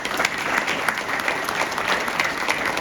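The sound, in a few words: audience applause at a college convocation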